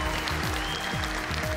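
An audience applauds after a stage performance at a patriotic event, the clapping steady and fairly soft, mixed with low rhythmic sounds in the background.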